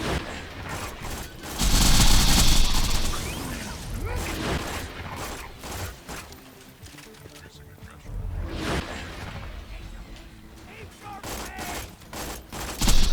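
Sniper rifle fire in Borderlands 2, a loud burst near the start followed by scattered gunshot cracks and game effects under a talking player, with another sharp blast at the very end.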